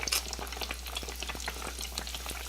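Eggplant slices fry in a skillet, a steady close sizzle of hot oil broken by scattered pops and crackles throughout.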